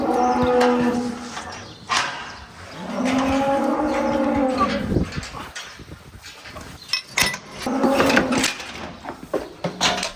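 Scared cows moo loudly and repeatedly during hoof treatment, long low drawn-out calls close by, with rustling and clattering movement between them.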